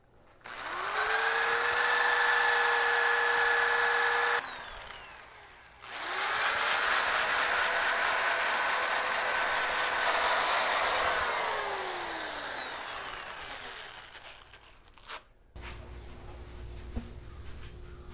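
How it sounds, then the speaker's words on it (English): A wood bowl spun on a lathe while its outside is sanded gives a loud, steady high whine with a rising and falling pitch, in two long passes split by a brief pause, then a quieter hum. "Now I'm going to sand this whole outside."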